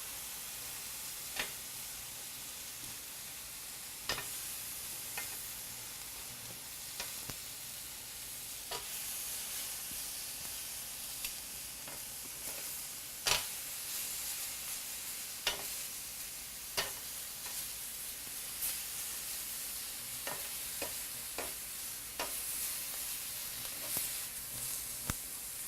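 Mexican-spiced chicken and vegetables sizzle steadily on a grill, with frequent sharp clicks and scrapes as they are stirred and turned; no one speaks.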